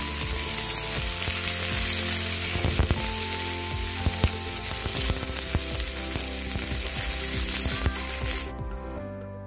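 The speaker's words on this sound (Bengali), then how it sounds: "এবারে আমি শিম আর বেগুনের টুকরোগুলো দিয়ে দিচ্ছি। আবারও ভালো করে ভেজে নেব।" Beans and eggplant pieces fry loudly in a pan for a spinach chorchori, a steady dense sizzle with scattered crackles and spatula scrapes, easing off near the end.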